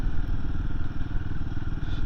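A 2024 Royal Enfield Himalayan 450 single-cylinder engine chugs at low revs while riding very slowly, a steady close rumble with faint clatter and thumps, no talk over it.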